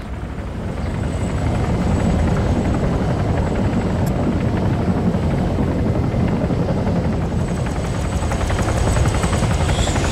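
Helicopter flying overhead in a war zone: a continuous, dense rotor chop and engine roar that swells in and then holds steady and loud for several seconds, with no talk.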